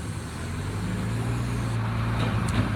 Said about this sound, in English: Okay, trash truck, turning around, hashtag trash.